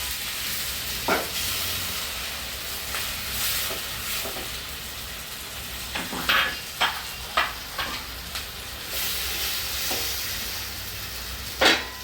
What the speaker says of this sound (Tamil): அரைச்ச மசாலாவும் ஊற்றிடலாம்